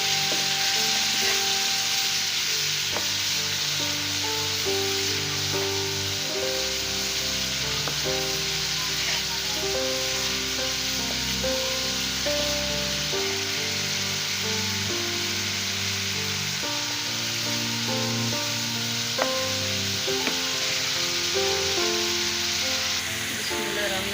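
Spices being stirred in a frying pan: fenugreek, turmeric, black pepper and chicken powder, cooked ahead of adding chicken liver. A steady close sizzle with stirring scrapes runs throughout, with no talking.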